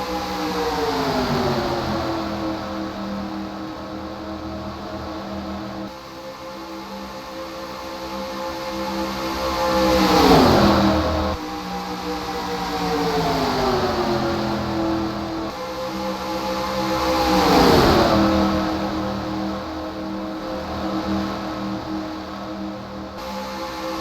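Stock cars race past on the Talladega track, engines rising and falling in pitch with a loud Doppler roar as packs sweep by, two strong passes standing out over a continuous engine drone.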